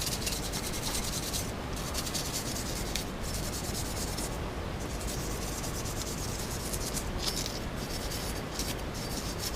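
A cloth rubs and wipes over an AR-15 rifle bolt in a steady, continuous scrubbing rhythm, close and fairly quiet, with brief pauses between strokes and no talking.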